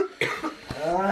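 A couple of short, sharp coughs close by, separated by a brief pause, followed by a low voiced sound.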